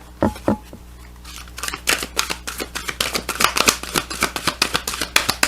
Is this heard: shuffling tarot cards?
yes